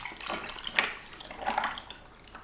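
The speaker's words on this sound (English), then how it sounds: "I'll then attempt to pour this neatly into my cup" An iced coffee and milk mixture poured into a glass, a soft liquid splash in two short bursts, faint and close, with no talking.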